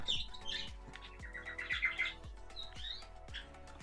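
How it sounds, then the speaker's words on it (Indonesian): Asian pied starling chirping while it bathes, a run of bright, quick chirps and short whistled calls up close, over a steady rhythmic splashing or tapping beneath. "Terus sekarang jalak surennya lagi mandi."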